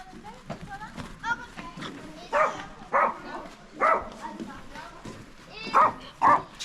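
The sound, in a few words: dog barking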